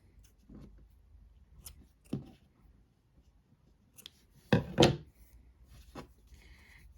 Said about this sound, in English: now I'm going to cut those yarn tails